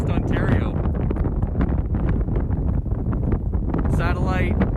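Strong gusting wind buffets the microphone on an open lake in western Ontario, a loud continuous roar with rumbling surges throughout, while a person talks over it.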